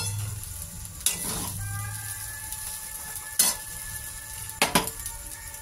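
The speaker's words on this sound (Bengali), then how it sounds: "ডিমটা দিয়ে আর একটুখানি নেড়ে টেড়ে নিই উপর মুখ করে" Egg chow mein sizzles softly in a pan while a utensil stirs it, with three sharp metallic scrapes and clanks against the pan spaced across the few seconds.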